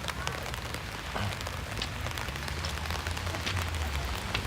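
Evening rain patters steadily on surfaces along the Philosopher's Path in Kyoto among cherry blossom trees, a dense, even shower with scattered nearer drips and no talk.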